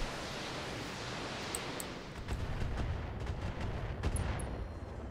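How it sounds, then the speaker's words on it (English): Missile salvo from a mech in the BattleTech video game, a dense rumbling barrage of explosive fire that swells after a couple of seconds, with sharp impact cracks scattered over a continuous roar. "So, fire missiles."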